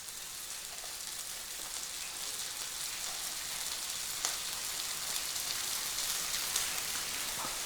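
Ground turmeric, chili and coriander powders stirred into a hot pan while cooking a payar curry, giving a steady, continuous sizzle and fry hiss that holds evenly throughout, with faint scraping of stirring.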